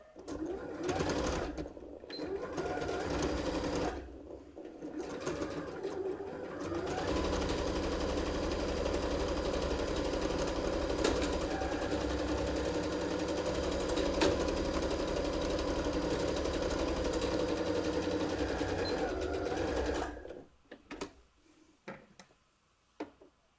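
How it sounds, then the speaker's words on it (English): A sewing machine runs steadily for about twenty seconds, stitching a purse along the edge of the presser foot, then stops and leaves a few faint handling clicks. "we're just going to sew at the edge of the presser foot"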